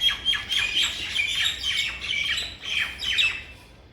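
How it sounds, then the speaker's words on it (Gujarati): Parrots squawk in repeated harsh, shrill bursts, loud and close, several birds calling over one another for a few seconds with no talk. "પોપટ બોલી રહ્યા છે બધા."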